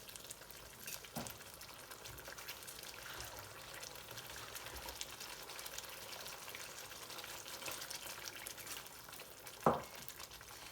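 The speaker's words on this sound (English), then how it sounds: "So I'm going to add a bit more water to this." Warm water is added to a curry frying in a pan. The faint steady sizzle mixes with watery, pouring sounds, and a sharp clink comes near the end.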